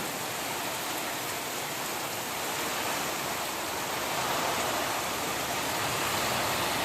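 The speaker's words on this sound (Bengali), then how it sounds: "চারিদিকে অন্ধকার হয়ে গেছে এবং মুসুলধারে বৃষ্টি হচ্ছে" Heavy rain pours down during a storm in Bogura, Bangladesh, in a steady, dense roar that holds unbroken throughout, with no voices.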